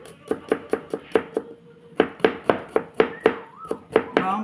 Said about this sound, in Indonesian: Bawang putih juga kita iris halus.